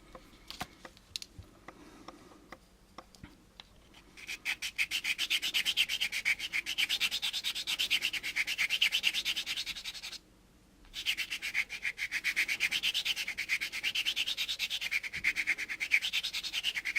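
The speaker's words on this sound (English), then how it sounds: "Do a little cross sanding method here." A model kit part from an AMT U.S.S. Enterprise kit is cross-sanded by hand, fast rhythmic back-and-forth scratchy strokes, close and soft, starting after a few quiet taps, pausing once briefly, then resuming steadily.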